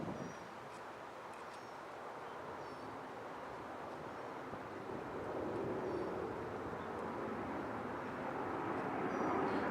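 A Saito twin-cylinder model glow engine runs steadily at low throttle, a broad continuous drone that grows slightly louder toward the end, with no talk.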